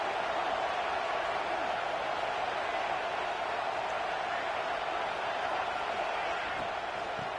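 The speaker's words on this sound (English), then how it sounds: "And here comes the noise. This crowd is trying to inspire this defense to make a big red zone stop." Dense, steady roar of a stadium crowd in a college football video game, Michigan versus Georgia, a continuous wash of cheering noise at moderate level with no distinct voices.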